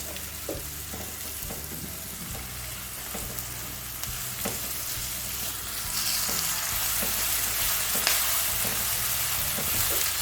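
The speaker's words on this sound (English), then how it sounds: "So I'm just going to stir fry this before adding the rest of the ingredients." Continuous sizzling of onion stir-frying in a pan, with occasional clinks and scrapes of stirring throughout.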